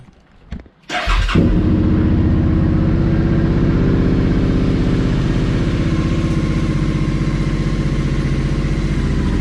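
A 2017 Suzuki SV650 third-generation motorcycle engine cranks briefly, catches and settles into a loud, steady, close-up idle with an even pulsing rumble that continues to the end.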